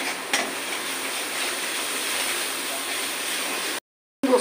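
Onion paste fries in hot oil, giving a dense, continuous sizzle with crackling spatter, close and fairly loud, until a sudden brief cutout near the end.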